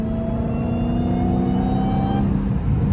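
A Dodge Hellcat on a drag pack whines loudly from its supercharger while driving, a rising high whistle riding over a steady engine rumble heard from inside the car.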